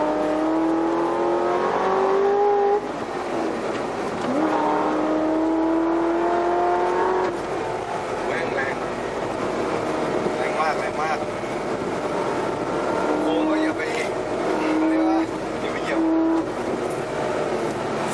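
A car accelerates hard through the gears, its engine rising in pitch several times with clear shift breaks, close and loud, while someone talks over it.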